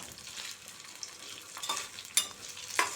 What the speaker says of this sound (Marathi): कोथिंबीरसुद्धा आपण तेलामध्ये परतून घेऊया अशा पद्धतीने.